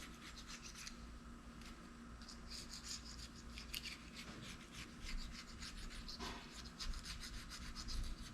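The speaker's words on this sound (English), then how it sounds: "I'm just gonna clean this surface off and then I'm gonna lightly scrape it" A tool lightly scrapes and rubs a tail shaft sealing surface clean on a Chevrolet Silverado Stepside, producing faint, repeated rasping strokes in an irregular rhythm over a low background hum.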